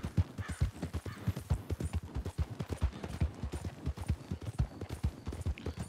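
Horse hooves clip-clop in a fast, even rhythm in the Red Dead Redemption 2 video game, each hoof strike crisp and close, with a faint outdoor ambience behind.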